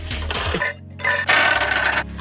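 A human voice imitates the Minecraft copper golem spinning its head, with close, buzzy, creaky vocal bursts and a short pause midway, alone without other sound.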